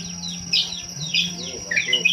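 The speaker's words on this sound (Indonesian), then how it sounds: "video lagi kasih makan burung merpatinya" Pigeons feeding outdoors, with a few faint high chirps and calls coming in quick bursts over a quiet background hum.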